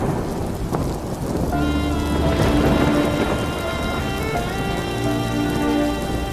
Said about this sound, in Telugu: ఈ వర్షం ఏమో తగ్గిలా లేదు